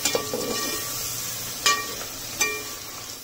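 Onions fry in a pan toward golden brown for chatpata chicken masala rice, a soft steady sizzle with a few brief clinks or stirring knocks, close and fairly quiet.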